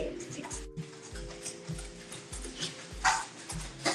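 Dogs shut behind a door indoors bark repeatedly in short bursts at an uneven rhythm, moderately close, with a louder volley near the end.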